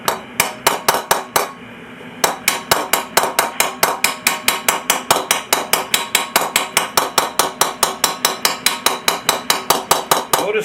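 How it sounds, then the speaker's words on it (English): Light hammer blows planish small raised dents out of metal armour on a stump, a fast, even run of crisp, close metallic taps with a brief pause near the start. "Notice my blows are really light."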